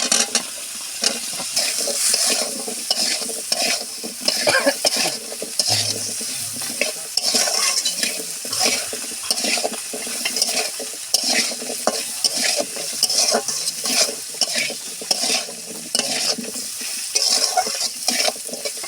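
Potatoes fry with a steady sizzle in a pan while a utensil stirs and scrapes them in quick, repeated strokes, close and fairly loud throughout, with no talking.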